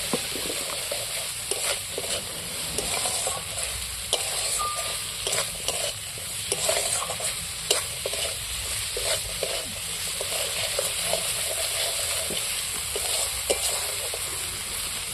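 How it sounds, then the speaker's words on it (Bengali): Green peas sautéed and stirred in a pan while making an egg dish, a steady sizzle with repeated scraping clicks of the spoon against the pan, close and continuous. "এইবার আমি ভালো করে কষিয়ে নেব"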